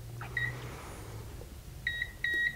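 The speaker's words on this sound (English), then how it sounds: "So I'll push down the hold menu for the three beeps." A Polar 640 device gives three short, high electronic beeps, one alone and then two close together, in an otherwise quiet room.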